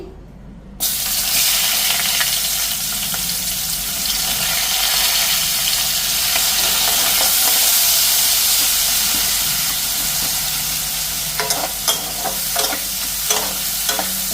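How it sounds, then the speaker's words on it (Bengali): Onion added to hot oil bursts into a loud, steady sizzle and hiss that holds for many seconds, with stirring scrapes and clinks near the end, close up and without talk. "আগে তেল গরম হয়ে গেছে পেঁয়াজটা আগে দেই"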